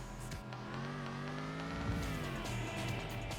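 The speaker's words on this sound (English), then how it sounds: "What is this engine noise?" A naturally aspirated car engine revving in the PS2 street-racing game Tokyo Xtreme Racer 3, a sustained tonal drone whose pitch rises and falls, with a brief squeal and cut-out near the start.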